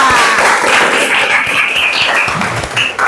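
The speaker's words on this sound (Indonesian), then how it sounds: "tepuk tangan untuk kita semua" Students in a classroom break into a short round of hand clapping, a dense, steady patter of applause lasting a few seconds.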